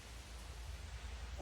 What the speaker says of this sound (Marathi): पाऊस पण दाखवते तुम्हाला